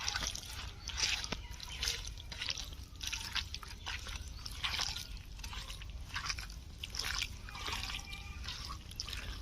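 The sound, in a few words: hand-mixing chicken with tomato, mustard oil and ginger-garlic paste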